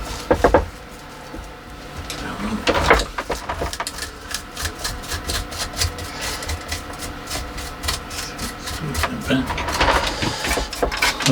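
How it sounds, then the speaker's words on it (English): Scraping off the top soil layer of an elm forest planting, repeated gritty scratches and rasps in an uneven rhythm, close up, with a voice talking over parts of it. "Just going to scrape off the top layer."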